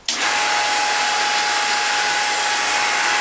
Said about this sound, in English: we'll start our hydraulic pump up